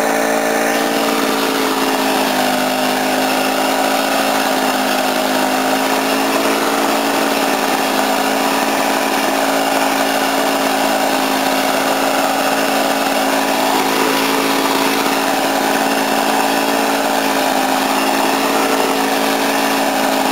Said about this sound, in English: That runs. Noisy as normal. Damn 2 strokes.